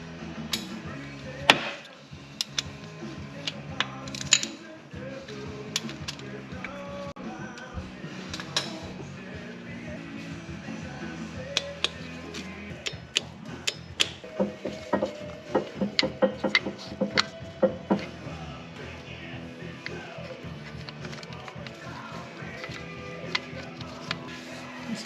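A torque wrench clicks repeatedly while tightening bolts during timing chain work on a Kia Sorento D4HB diesel engine, sharp ticks and knocks scattered over a continuous mechanical background in a workshop.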